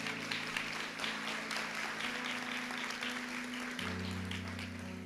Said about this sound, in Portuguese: Vamos aplaudir a Sagrada Escritura?